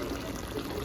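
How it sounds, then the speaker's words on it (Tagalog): A little water is poured into a pan of chicken adobo, making a short, close, steady trickle with no speech. "lagyan natin ng tubig. Kunting tubig lang."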